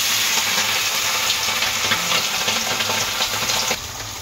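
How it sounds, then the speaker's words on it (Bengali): Four fish sizzle and crackle in smoking hot oil in a small wok, a loud steady frying hiss that drops slightly near the end. "যদিও ছোট কড়াই, তারপরেও আমি 4টি মাছ কড়াইতে ছেড়ে দিয়েছি।"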